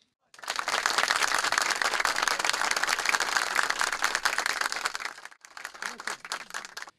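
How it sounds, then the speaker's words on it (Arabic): An audience at a children's show in Ain Tagourait bursts into dense applause for successful students, loud and sustained for about five seconds, then a brief dip before a smaller second round of clapping. "أعطونا تصفيق على الناجحين."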